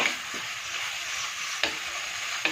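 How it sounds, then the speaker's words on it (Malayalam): Shallots sautéing in a pan for Kerala fish curry, a steady broadband sizzle close up with a couple of sharp stirring scrapes, no talk. "നന്നായിട്ടൊന്ന് വഴറ്റിയെടുക്കാം"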